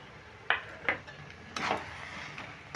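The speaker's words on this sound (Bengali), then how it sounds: "নারকেলটা দিয়েও নাড়াচাড়া করে নিচ্ছি।" Coconut being stirred into a pot of chal kumro ghonto, spoon knocks against the pot in a few sharp, separate taps with quiet scraping between them, close and loud, no talk.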